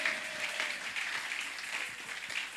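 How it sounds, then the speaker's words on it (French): A church congregation at a multilingual worship service applauds for the Lord, steady dense clapping throughout at moderate distance, with no talk. "Est-ce qu'on peut acclamer pour le Seigneur?"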